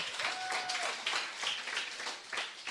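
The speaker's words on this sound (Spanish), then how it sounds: "¿Será que usted puede aplaudirle a Dios por eso?" Congregation at a church service applauding, a broad wash of clapping with a brief whistle-like tone early on, fairly steady and moderately loud throughout.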